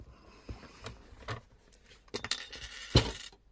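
A small black ring drops onto a desk in a craft workspace, giving several light clicks and a sharper clatter near the end, close and fairly quiet, with no talking.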